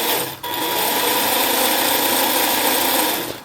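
A small HT C601 1/16 scale RC jeep motor runs at high speed, giving a steady, dense electric whine that holds constant for several seconds after a brief dip near the start, close and loud.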